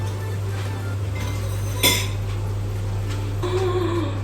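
Metal utensil stirring and scraping ground meat and onions in a pan for hachis parmentier, light clinks and scrapes with one sharper knock, over a steady low hum of kitchen noise.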